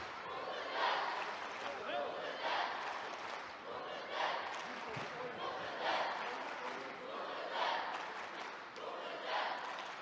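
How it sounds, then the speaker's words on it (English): A judo arena crowd at the Tashkent Grand Slam cheers for an Uzbek fighter in swelling, rhythmic waves of roaring and chanting that rise and fall repeatedly, with commentary talk over it. "And the crowd, of course, is cheering for"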